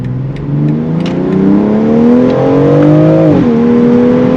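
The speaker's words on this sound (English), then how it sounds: "You guys hear the burbles and everything from a stock SUV is insane" A 2021 BMW X3 M Competition SUV's engine drones steadily and rises in pitch as it accelerates, exhaust burbling, then dips briefly before settling into a steady hum, close and loud.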